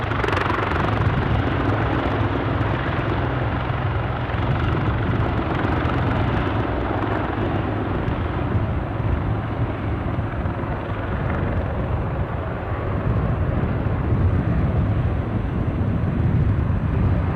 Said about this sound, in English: It's an Eastern Airways departure as well.